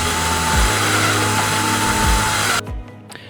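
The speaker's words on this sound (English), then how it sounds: "now I'm gonna pre-drill a hole big enough for this bolt to fit through" A power drill pre-drills a bolt hole in wood, whining steadily at close range, with a few low thumps, then cuts off abruptly near the end.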